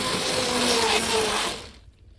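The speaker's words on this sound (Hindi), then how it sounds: "मैं तो प्रेफर कर रही हूँ कि आप इसको हैंड ब्लेंडर से ब्लेंड करो" A hand blender whirs loudly through a tomato mixture for homemade ketchup, a dense buzzing motor sound that runs for about a second and a half before stopping abruptly.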